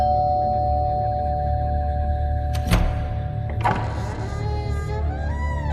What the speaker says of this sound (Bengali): সে কলিং বেলটা চেপে ধরল